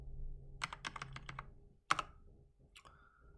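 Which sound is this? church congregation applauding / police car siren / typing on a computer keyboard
typing on a computer keyboard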